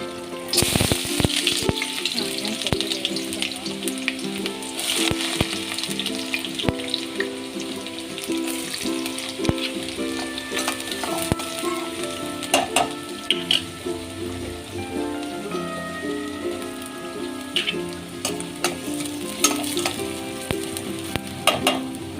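Oil frying for a mutton curry, a continuous sizzle with utensil clatter and stirring, some running water and faint voices in the background.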